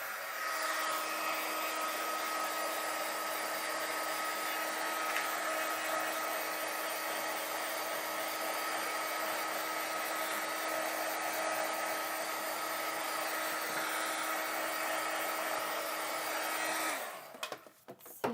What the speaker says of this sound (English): I'm going to use my heat gun and just dry this a minute.